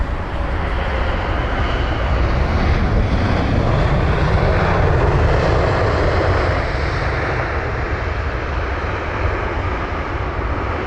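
A British Airways Boeing 787 at London Heathrow roars loudly and continuously with broadband jet engine noise, swelling slightly mid-way as it passes close by, with no other sounds.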